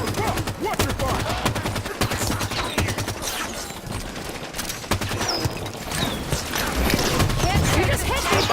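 Video game gunfire rattles almost continuously in dense bursts of shots at moderate loudness, with people talking over the shooting.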